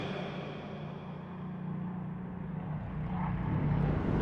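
B-24 Liberator bombers fly in formation over the Mediterranean, their engines roaring in a dense, continuous drone that swells louder toward the end, heard alone without talk.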